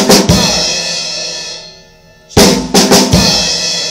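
Drum kit playing short fills, with sharp broadband hits at the start and a cluster of loud strikes near the end around a brief quieter gap, close and alone without talk.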